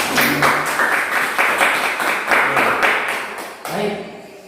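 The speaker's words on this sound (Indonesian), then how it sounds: "kita beri tepuk tangan untuk semuanya" A classroom of students clapping together in quick rhythmic bursts, fairly close and loud, ending abruptly with a brief pause and a final short burst.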